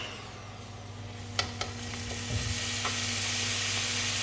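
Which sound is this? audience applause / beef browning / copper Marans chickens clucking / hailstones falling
beef browning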